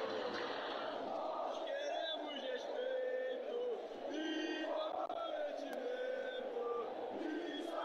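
A virtual stadium crowd at the Maracanã chants and roars continuously in a football video game's Libertadores round-of-16 match, a steady dense wall of voices under a commentator's talk.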